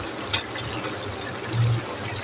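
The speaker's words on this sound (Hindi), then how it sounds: "ये 1 कप के लगभग इसमें पानी डाल दिया मैंने।" About one cup of water pours into a pot of kata masala beef stew with whole red chillies, a soft, continuous, faint rushing splash with no voices.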